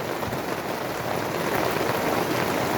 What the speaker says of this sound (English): the rain's going to come again tomorrow, which is now, and it's raining